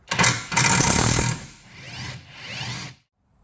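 An impact gun works loose a rear shock absorber bolt on a VW Scirocco MK3, giving two loud buzzing hammering bursts followed by a softer whirring run that cuts off into quiet.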